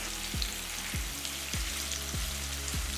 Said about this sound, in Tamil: எல்லாமே நல்லா பொரிஞ்சிருச்சு